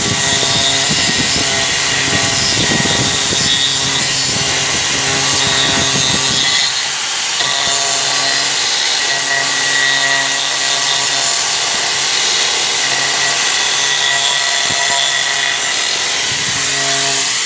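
A portable angle grinder runs loud and close the whole time, a dense harsh whine with a rough grinding edge that eases slightly partway through but never stops.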